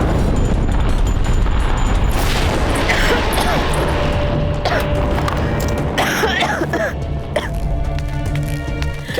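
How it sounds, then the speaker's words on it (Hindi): Heavy cannon blasts at night in a Mughal-era battle scene, loud deep booms and rumbling over a continuous roar of bombardment, with voices mixed in amid the barrage. "ये तोपों के धमाके"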